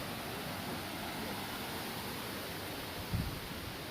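Steady broadband rush of a waterfall at Stony Brook, New York, a constant even wash with no break, plus a brief low thump near the end.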